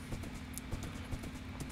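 A horse's hooves clip-clop in a steady trotting rhythm while riding in Minecraft, quiet and even, with no talking.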